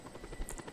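A helicopter in Just Cause 2 drones as a faint, steady rotor buzz with soft pulsing beats across a brief moment, no voices.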